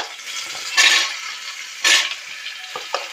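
Potatoes and chopped bottle gourd drop into a hot oiled pan for a spice-tempered curry, giving two sharp bursts of sizzling over a steady low fry, with a few soft clinks of a stirring utensil near the end.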